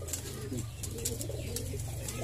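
Soft repeated calls of a burung gemuk and a burung tritis batu, cooing and chirping notes, over a steady low hum of background noise.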